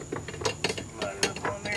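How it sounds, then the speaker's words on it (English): A socket and ratchet turns a nut during work on a 1995 Sea-Doo XP personal watercraft, giving a quick run of close, clicking mechanical ratchet strokes in an uneven rhythm. "Socket and ratchet."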